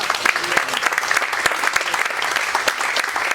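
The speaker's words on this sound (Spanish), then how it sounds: "Dale un aplauso al Señor." A church congregation applauds together, dense rapid clapping from many people filling the room continuously without pause.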